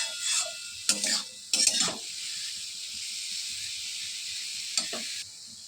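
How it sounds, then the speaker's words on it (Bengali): Garlic, chili and cumin paste sizzles steadily as it is stirred into frying taro stolons, with a few louder scraping bursts of the spoon against the pan over a constant hiss. "মশলাটা ভালোভাবে নাড়তে হবে যাতে পুরোটাই কচুর লতিটার সাথে মিশে যায়।"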